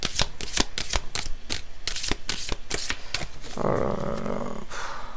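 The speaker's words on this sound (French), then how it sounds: "quand on tire les cartes" Tarot cards are shuffled close up, a run of quick crisp riffling flicks in steady rhythm, followed by a softer sliding rustle as the deck is gathered, with no voices.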